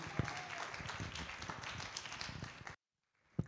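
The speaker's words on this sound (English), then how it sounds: "Please give a hand of applause to Mr." An audience at a career expo opening ceremony gives a brief round of applause, a dense patter of many hands clapping at a moderate distance before it cuts off abruptly into near silence.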